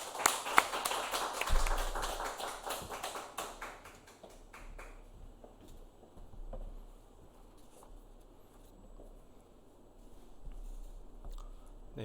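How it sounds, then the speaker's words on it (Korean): A small congregation at a Korean Wednesday church service claps to welcome the preacher, brisk close applause that tapers off after a few seconds into quiet room tone with scattered taps. "따뜻한 박수로 모시도록 하겠습니다"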